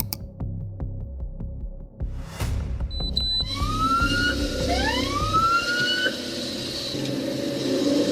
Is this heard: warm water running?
no